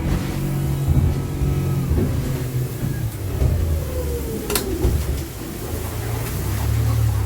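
A 2017 Pro V 1800 hardtop boat running on the water with its engine near 6,000 rpm, a loud, steady engine drone and rushing water, with a brief sharp clatter partway through.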